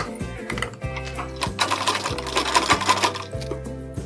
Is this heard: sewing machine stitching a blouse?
yes